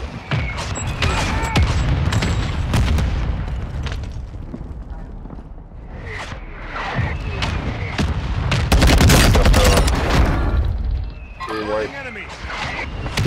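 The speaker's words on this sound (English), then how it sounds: "Mortar support on the roof. Incoming. Solid copy. Mortar strike on the way." Mortar strike explosions in Warzone 2 boom and thud repeatedly amid gunfire, with a heavy rumbling cluster toward the end, while players talk over the action.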